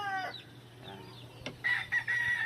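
A regular hatch grey gamecock rooster crows close by, its call rising and breaking into a strained high note with a short break partway, accompanied by a brief clatter, and no talk.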